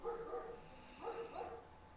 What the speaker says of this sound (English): That's my dog joining in on the fun.